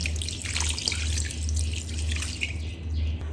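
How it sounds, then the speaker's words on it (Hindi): A glass of water is poured into a pot of chicken steam-roasting, giving a steady splashing trickle with scattered drips over a constant low cooking hum for a few seconds. "अब हम इसमें 1 ग्लास पानी डाल देते हैं।"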